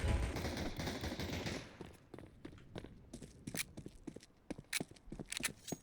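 Gunfire in a Counter-Strike 2 Wingman tournament match: a dense burst of noise at the start, then scattered sharp cracks and clicking shots at varying distances, with no talk.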